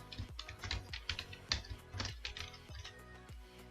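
Fingers type Python code on a computer keyboard, a quick uneven patter of close key clicks with short gaps, no voice over it.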